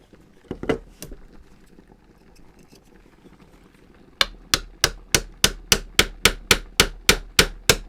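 Hammer blows drive wedges into a glued seam of an antique wooden dressing table: a couple of scattered knocks, then a steady run of about fourteen sharp, loud strikes in close, even rhythm.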